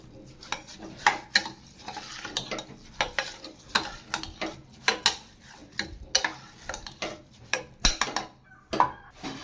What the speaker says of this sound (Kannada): ರುಚಿಗೆ ತಕ್ಕಷ್ಟು ಉಪ್ಪು ಸೇರಿಸ್ಕೊಂಡು ಈಗ ಇದನ್ನು ಮಿಕ್ಸ್ ಮಾಡ್ಕೋಬೇಕು.